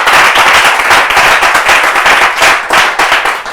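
An audience applauds loudly and close, a dense, continuous burst of many hands clapping that fills the whole moment without any talking.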